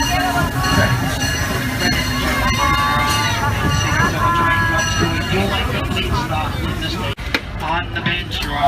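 Disneyland Railroad steam train pulling into Tomorrowland Station, a steady rumble of rolling wheels and carriage noise with murmuring passengers in the background, fading near the end.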